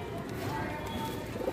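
Border pigeons kept for sale coo in low, throaty repeated calls, close by, under a steady hum of background noise.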